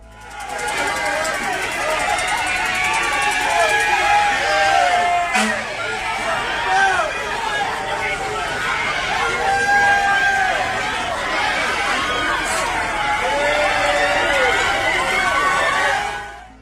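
Dense crowd chatter and hubbub at a neighborhood Juneteenth celebration where people block firefighters, a steady wash of many voices with shouts rising throughout, close and loud.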